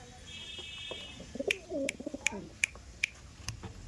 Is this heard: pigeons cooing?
yes